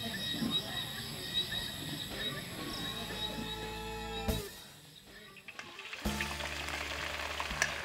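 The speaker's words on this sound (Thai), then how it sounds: "นำตะไคร้ลงไปทอดให้สุกกรอบ" Lemongrass deep-frying in hot oil until crisp, a soft steady sizzle and bubbling that fades mid-way and then returns, with outdoor insect calls in the background.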